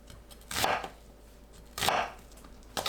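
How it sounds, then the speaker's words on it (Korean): Onion being cut into bite-size pieces with a knife on a cutting board, three distinct close chops spaced about a second apart, each a sharp crunchy thud, with quiet room tone between. "양파를 한 입 크기로 썰어주세요."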